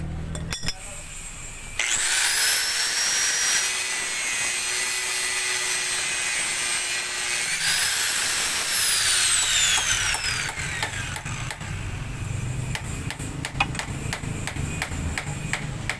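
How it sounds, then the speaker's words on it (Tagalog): A power cutter slices through a 10mm bolt for a Raider 150 motorcycle sleeve, a loud, high-pitched metallic screech that starts abruptly, rises and falls in pitch through two long cuts, then fades into clattering workshop noise. "naputol na natin yung tornilyo na 10mm"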